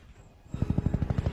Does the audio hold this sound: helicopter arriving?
yes